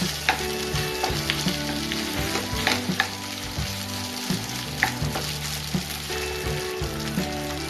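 Three cups of already-cooked white rice frying in a pan with a steady close sizzle, scraping and stirring clatter over a low background hum, and no one talking.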